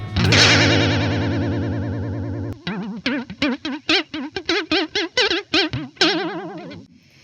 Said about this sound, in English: It is an Alesis Microverb 4